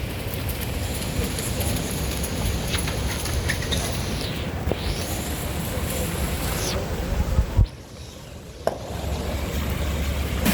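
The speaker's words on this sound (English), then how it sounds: "A rainy day." Steady rain on a Manhattan street at Broadway and Warren near City Hall, a continuous loud wash of rainfall with brief dips and a sharp knock near the end.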